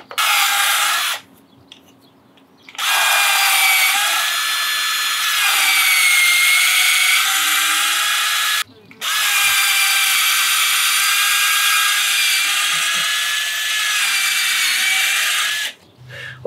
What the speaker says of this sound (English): So we're drilling about 2 inches down.